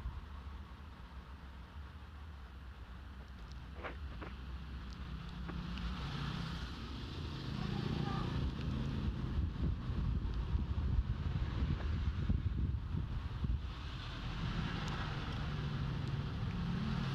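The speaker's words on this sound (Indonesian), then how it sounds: "anginnya semakin kencang ini." Strong wind sweeps across open rice fields, a steady broadband roar buffeting the microphone that builds and gusts harder partway through, with no voices.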